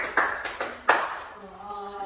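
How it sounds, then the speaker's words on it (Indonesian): Classroom clapping game led by a teacher: a few sharp hand claps in a loose rhythm, close and fairly loud, against roomy background noise, with a voice speaking at the end. "Kalau tepuk 2, begini, dari kanan ke kiri."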